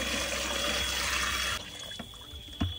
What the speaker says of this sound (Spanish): Ahora le vamos a agregar una buena porción de agua.